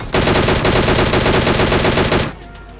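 Sustained rapid automatic gunfire in a battle royale video game, a loud unbroken burst of close shots lasting about two seconds before cutting off abruptly into quieter game ambience.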